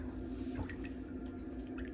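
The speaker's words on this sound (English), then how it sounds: "All right, we can put this foot back in the water." A foot slips back into a pedicure foot bath, with faint drips, soft sloshing and small splashes of water over a steady low hum.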